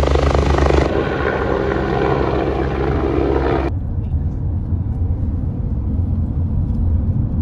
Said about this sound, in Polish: Jak widzicie, jest tam nawet śmigłowiec.